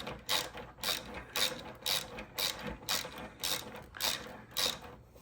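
A ratchet wrench turns a bolt while a luggage rack is installed on a Honda Transalp motorcycle, giving about nine evenly spaced bursts of close, crisp clicking.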